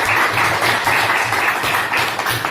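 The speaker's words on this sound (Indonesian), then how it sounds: "Aplaus dulu untuk Ananda Ana." Classroom applause for a student fills the room, a dense steady patter of many hands clapping at close range with no voices over it.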